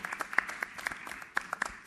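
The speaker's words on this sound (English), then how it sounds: "So a big round of applause for Shantanu and Nikhil." Scattered audience clapping at a fashion week curtain raiser event for the designer duo Shantanu and Nikhil, faint and sparse, a few distinct claps rather than full applause.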